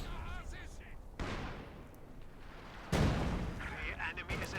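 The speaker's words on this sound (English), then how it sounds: "And double Zisgun barrage here, going to shove away the MG, leaving a cratered hellscape." Double ZiS gun artillery barrage in Company of Heroes 2, shelling an MG position: two heavy shell blasts a couple of seconds apart, the second louder and closer, with rumbling debris amid battle noise and a commentator talking throughout.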